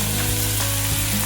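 Onions fry in a pan with a little salt, giving a loud, dense, unbroken sizzle at close range with a low steady hum beneath.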